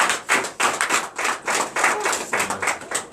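A church congregation in Bénin claps in steady unison, about three sharp claps per second, loud and close, keeping an even rhythm throughout.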